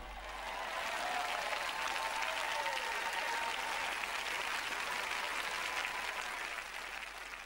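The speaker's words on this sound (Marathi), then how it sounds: "चला आता जोरदार टाळ्या वाजवा" A church congregation breaks into loud, sustained applause, many hands clapping together in a dense, even roar that holds steady for several seconds before easing slightly at the end.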